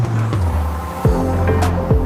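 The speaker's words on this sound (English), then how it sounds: "Let's do the cold start." An SUV engine in Car Simulator 2 cold-starts, with sharp cranking bursts followed by a loud, steady idle drone and a couple of quick revving blips.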